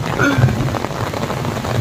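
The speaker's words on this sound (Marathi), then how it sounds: "पाऊसही सुरू झालेला आहे फायनली कोकणातला पाऊस बघा तुम्ही बघू शकता" Monsoon rain falling in the Konkan region during a Ganesh festival makes a steady, dense patter close by, with a person talking over it.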